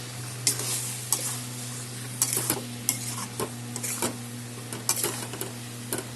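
Chicken and potatoes, marinated with turmeric, salt and vinegar, tossed together in a frying pan: a soft steady sizzle broken by repeated sharp scraping strokes of the spatula, with a constant low hum underneath.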